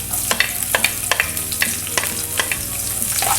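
Garlic sizzling in hot cooking oil for pork menudo, a close steady fry punctuated by sharp scraping stirs of a utensil against the pan, with a low hum underneath.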